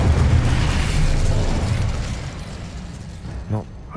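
Incendio, the fire spell in Hogwarts Legacy, erupts in a loud, rumbling burst of flame that roars for about two seconds, then dies down to a softer tail with a brief pop near the end.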